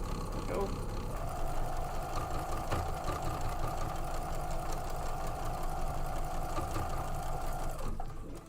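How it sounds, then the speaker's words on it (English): A sewing machine stitches poinsettia table runner pieces together, running as a steady, continuous whirr for about seven seconds before stopping, close and clear over a faint room background. "Sew them up together."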